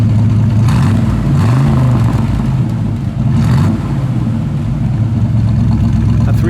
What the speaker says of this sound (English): I'm gonna give it a little gas Dalt.